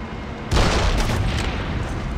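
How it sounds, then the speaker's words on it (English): Explosives in Call of Duty World at War set off by a sniper round, a sudden boom after half a second of quiet, then a sustained roaring rumble that slowly fades. "You'll have to hit them with a sniper round to set them off."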